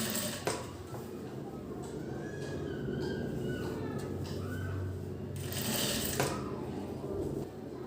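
Sewing machine stitching piping along the neck strip edge of a princess-cut blouse, a steady fine mechanical whir running throughout at moderate level, with a soft voice speaking in the background.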